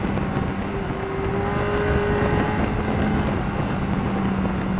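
A Kawasaki GTR1400 Concours motorcycle pulls away on the throttle along narrow twisty roads, its engine note climbing steadily in a continuous drone mixed with wind rush, with no talking.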